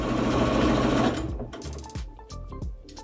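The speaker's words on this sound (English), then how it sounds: "Still at the sewing machine." A sewing machine stitches a quilt block in a loud continuous whir that stops after about a second, followed by scattered mechanical clicks and knocks as the fabric is handled.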